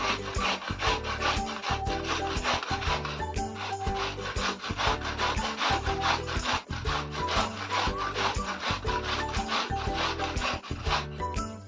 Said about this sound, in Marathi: त्यावर घेतली एक किसणी त्यावर आपल्याला हे आंबे छान किसून घ्यायचे